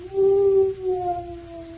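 A dog's long, mournful howl from a vintage radio drama sound effect, one sustained tone that wavers and then trails off more quietly.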